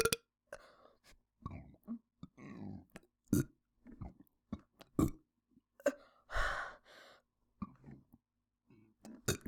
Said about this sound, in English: burps in the home bathtub